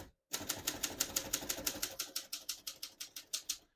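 Rapid keystrokes on a 1935 Smith-Corona Standard Flat Top portable typewriter, about twenty sharp clacks in a steady, even rhythm, close and clear with no talking.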